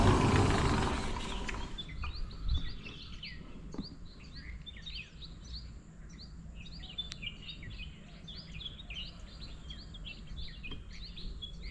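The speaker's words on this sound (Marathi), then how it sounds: "मस्त पक्ष्यांचा आवाज येतोय." Morning birdsong at a seaside cliff resort on the Konkan coast, with many small birds chirping continuously at a moderate distance after a brief louder noise at the start.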